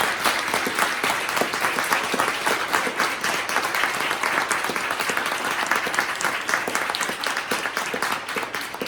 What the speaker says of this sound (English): I'd like to go ahead and clap for them right now